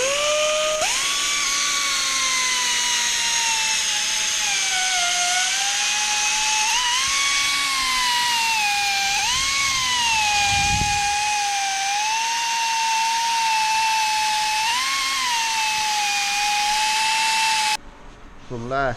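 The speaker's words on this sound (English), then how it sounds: "then I have to sand this down" A high-pitched power sanding tool whines steadily up close on a part during heavy-duty hydraulic press maintenance, its pitch wavering as pressure shifts, then cutting off abruptly near the end.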